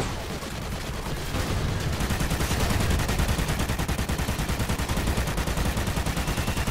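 Rapid automatic gunfire rattles in Call of Duty: Ghosts, loud dense bursts that build into a sustained fast rhythmic volley over several seconds, with no one talking.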